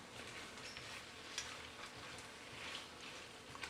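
Cauliflower and carrots stirred into Chinese fried rice with prawns in a hot pan make a faint, even sizzle, with a few light clicks and scrapes from the stirring.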